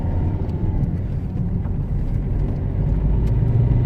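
Ford Fiesta 1.4 TDCi diesel car on the move, a steady low engine and road rumble heard from inside the cabin, constant and fairly loud.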